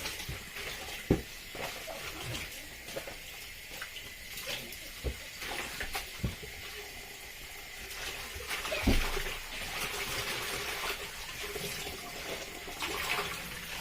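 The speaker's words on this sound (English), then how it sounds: "I'm going to rinse the spinach" Fresh spinach rinsed under a running tap, a steady hiss of flowing water broken by splashes and handling knocks as the leaves are moved about, close and continuous.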